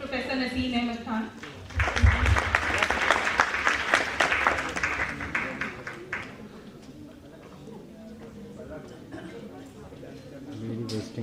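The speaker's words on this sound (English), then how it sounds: "a big round of applause for Professor Naseem Ahmed Khan" An audience at an international education conference applauds Professor Naseem Ahmed Khan, clapping building after a spoken introduction, peaking for a few seconds then dying away into quieter room noise and voices.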